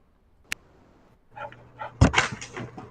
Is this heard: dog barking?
yes